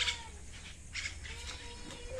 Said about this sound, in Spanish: Los pajaritos andan ahí ya queriendo dormir también.